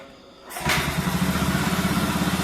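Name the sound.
motorcycle engine being kick-started and idling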